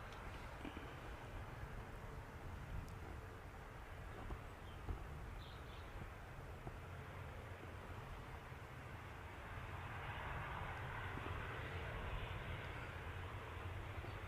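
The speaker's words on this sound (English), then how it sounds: "Another little noisy prop coming in from Aberdeen." A small ATR turboprop airliner arriving at Manchester Airport from Aberdeen drones steadily in the distance, a faint broad engine roar that swells slightly toward the end, with no talk.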